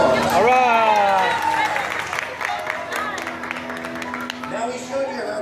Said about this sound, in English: everybody give her a big round of applause.